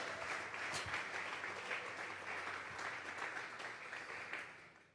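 Church congregation clapping together in steady sustained applause, fairly faint and distant, with no talk over it, fading at the end.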